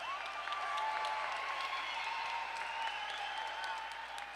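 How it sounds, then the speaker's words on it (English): A crowd at a fight event applauds, steady continuous clapping heard at a moderate distance under a loud voice speaking over it. "Fight fans, a round of applause for two great warriors in one awesome contest."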